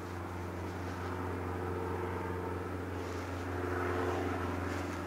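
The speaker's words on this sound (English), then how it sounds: "I do apologise about the aeroplane." An aeroplane passes overhead in the woods, a steady low propeller-like drone with broad rushing noise that swells slightly louder toward the end, continuous throughout with no talk.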